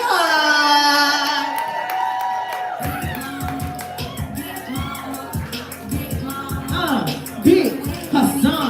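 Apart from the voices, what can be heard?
audience applauding and cheering for a poet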